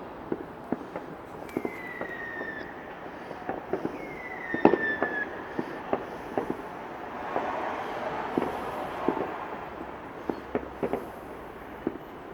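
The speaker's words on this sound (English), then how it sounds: "As you can see, there's fireworks." Bonfire Night fireworks burst over London at a distance, scattered sharp pops and cracks with a couple of rising whistles, heard against a low background rumble.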